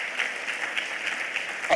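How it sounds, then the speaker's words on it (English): Church congregation applauding at a service, a steady even wash of clapping throughout, moderately loud and without any talk over it. "If you want to clap, please clap."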